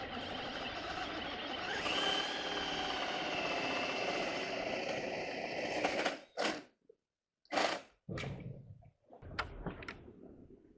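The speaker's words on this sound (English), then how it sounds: "Coming inside my mark, I'm going to drill a hole." Power drill boring a hole in a wooden porch top railing, a steady whine for about six seconds, then several short separate bursts with pauses between, fairly close.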